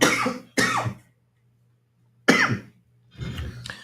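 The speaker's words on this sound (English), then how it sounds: "I feel like I'm still coughing from this going into the hit of this" Several close, harsh coughs burst out in quick pairs from someone smoking a hand-rolled cannabis joint, with short silent gaps between them.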